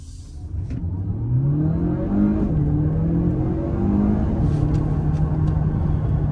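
A DS7 E-Tense 4x4 plug-in hybrid SUV with an EAT8 eight-speed gearbox pulls away in electric mode, its motor whine rising in pitch and shifting steadily over a loud, constant road and cabin rumble.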